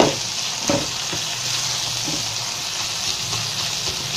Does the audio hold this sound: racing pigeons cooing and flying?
no